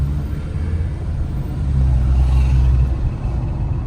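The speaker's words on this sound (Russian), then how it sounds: "Да, пробки у нас в Таразе тоже уже бывают, особенно в час пик." Rush-hour traffic crawls through a jam on a street in Taraz, Kazakhstan, at the Ulbike Akyn and Tole Bi crossing, a low, continuous engine rumble that swells a little midway, with no talking.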